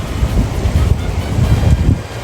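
Wind buffets the microphone in a continuous low rumbling roar, gusting unevenly throughout.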